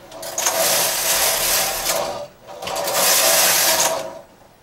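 Domestic knitting machine carriage swept across the bed for two rows while knitting a diagonal square with eyelets: two loud, sustained mechanical whirring rattles with a short pause between them, close and without talk.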